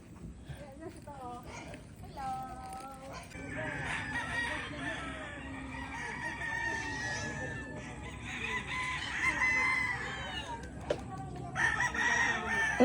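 Several roosters crow repeatedly at varying distances on a farm in Batangas, with clucking chickens around them and people talking softly in the background.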